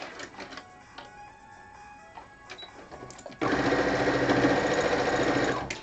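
Sewing machine stitching binding onto a quilt: after a few quieter clicks and handling sounds, the motor kicks in with a loud, steady, rapid mechanical whir that runs continuously to the end.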